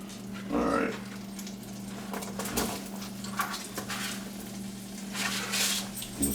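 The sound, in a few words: garlic and diced onion frying in a pan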